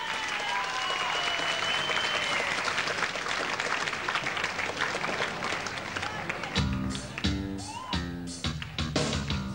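An audience claps and cheers steadily to welcome a band from Húsavík onto a 1988 Icelandic summer TV show, a dense wash of applause that gives way to loud band music near the end.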